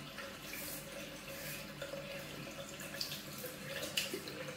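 A Gillette Mach 3 Turbo razor is rinsed under a running tap, with a steady splashing stream of water broken by brief clinks and spatters, close and fairly quiet, no talk.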